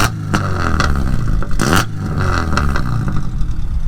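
A modified Honda Civic Type R with a Spoon exhaust and BC coilovers, rated at 240 brake horsepower, is revved up close. The engine note is loud and rough, with a sharp rev spike in the middle.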